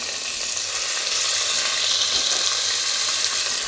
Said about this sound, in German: So, da hinein kommt portionsweise unser Fleisch.